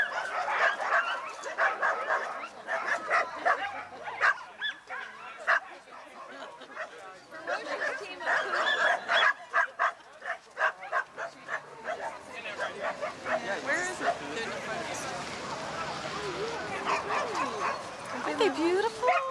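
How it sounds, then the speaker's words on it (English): A crowd of sled dogs waiting before a 1990 dog race in Anchorage bark, yip and whine excitedly in continuous, overlapping bursts at a moderate distance, while people talk nearby. "We can hear the dogs in the background. They're just throwing a fit over there."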